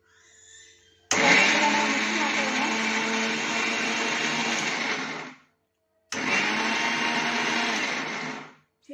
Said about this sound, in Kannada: ಈಗ ಇದನ್ನು ಮಿಕ್ಸಿಗೆ ಹಾಕೋಣ.